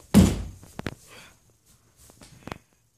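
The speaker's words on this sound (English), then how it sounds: "Here, close that door." A door shuts with a loud close thump, followed by a few fainter knocks and rattles and a second softer thud near the end.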